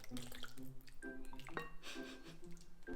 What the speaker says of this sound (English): Pour the broth all over the meat, all over the bread.